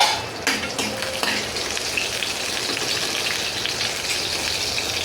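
Continuous loud crackling and sizzling of green chillies frying in oil, dense and steady throughout with no voices.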